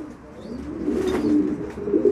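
A single pigeon gives a soft, low cooing phrase, close and fairly quiet, rising briefly in the middle and trailing off alone without talk.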